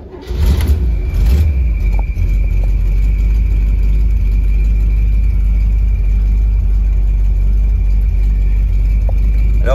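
A 1964 Chevrolet Corvette C2 convertible engine cranks briefly and catches, then settles into a loud, steady, close idle that continues without pause.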